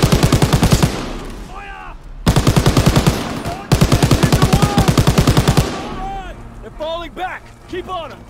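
A machine gun fires in long, loud, close bursts in Call of Duty WWII, three sustained strings of rapid shots separated by short gaps, with someone talking over the quieter stretches at the end.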